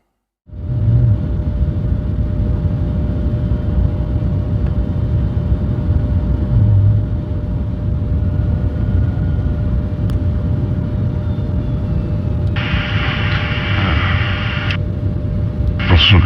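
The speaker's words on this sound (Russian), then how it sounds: "Дивимось, як ми літаємо на літаку Руслан" An Antonov An-124 Ruslan cargo aircraft in flight gives a loud, constant low engine drone and rumble that fills the whole stretch, with a brief steady tone appearing late on.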